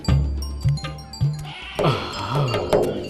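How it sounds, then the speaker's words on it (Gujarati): A goat in an animated children's folk tale bleats several times in quick succession, loud and close, with wavering cries and nothing else heard. "શું જાડી બકરી છે?"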